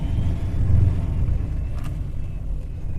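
A car climbs a misty mountain road in light rain, its engine a steady low rumble with road noise heard from inside the vehicle, fairly loud and continuous.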